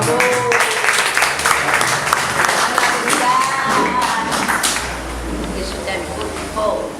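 A church congregation clapping their hands together during a service, a dense continuous patter of many hands close by, with voices talking and singing over it.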